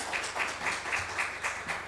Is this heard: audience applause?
yes